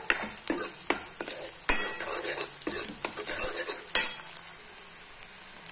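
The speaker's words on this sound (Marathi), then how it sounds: "कांद्याला ब्राऊन होऊ द्या। तेलावर चांगला ब्राऊन झाल्यावर आपण सगळं टाकूया।" Onions browning in oil in a pan while being stirred, with repeated scraping clinks of a utensil against metal over a steady sizzle that fades toward the end.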